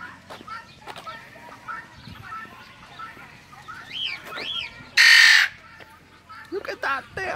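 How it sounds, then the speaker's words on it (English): A parrot at a zoo gives several rising squawks and one loud harsh screech, mixed with people talking and other bird calls nearby. "Look at that damn parrot."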